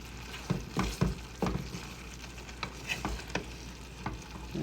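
Leafy vegetable shoots sauté with garlic and garden-grown tomato in a hot pan, giving a steady sizzle broken by repeated scraping stirs of a spatula, close up with no talking.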